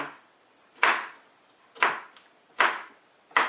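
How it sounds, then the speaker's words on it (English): A knife chops peppers on a board while quesadillas are prepared: four sharp, close chops about a second apart, each ringing out briefly before the next, with no talking. "All you're doing is chopping, chopping, chopping"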